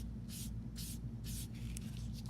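A charcoal stick rubbed back and forth on paper while shading a value scale, about three soft, brief scratchy strokes over a low steady hum, faint and close.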